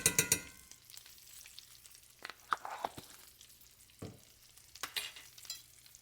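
Wild hog meat fries in rendered bacon grease with a soft, low sizzle, broken by sharp utensil scrapes and clinks as it is stirred.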